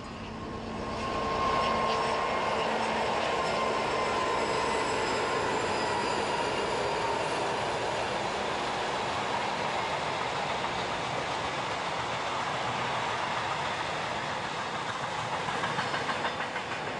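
Two Ludmilla diesel locomotives hauling an armoured train rumble past, a broad, continuous roar with faint metallic wheel squeal, rising early and holding steady at a moderate distance.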